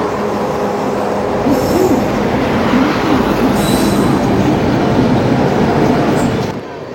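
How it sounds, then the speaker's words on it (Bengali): The Uttar Banga Express, with red LHB coaches, pulls into platform 3 at Sainthia Junction, a loud, steady rumble of rolling wheels with metallic squeals and high screeching bursts. The sound stays close and continuous before easing at the end. "এই আমাদের উত্তরবঙ্গ এক্সপ্রেস ঢুকে পড়েছে।"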